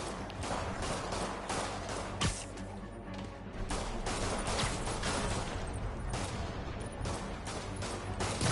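Rapid gunfire bursts in Marvel's Spider-Man video game, loud and dense, with crashing impacts and a sustained clatter of shots throughout.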